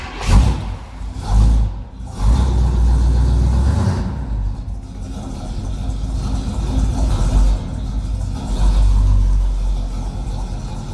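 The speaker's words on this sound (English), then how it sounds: "let's start this up. It's a little cold-blooded, so we're going to let it warm up a little bit here." A 1968 Oldsmobile 442 V8 cranks and fires on a cold start, then settles into a loud, rumbling warm-up idle with rising and falling revs, heard close and alone.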